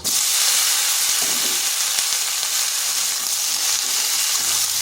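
Sliced ridge gourd frying with whole cumin and dried red chillies in hot oil over high heat, a loud, dense, continuous sizzle with occasional faint stirring knocks, close and steady throughout.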